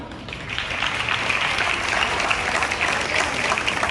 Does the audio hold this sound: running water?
no